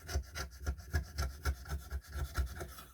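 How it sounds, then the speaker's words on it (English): A sharp chisel scoring across a wood surface to remove excess while cutting a mortise and tenon joint, making a steady series of close, rhythmic scraping rasps, roughly three per second, with no talking. "Just scoring the wood, getting rid of the excess."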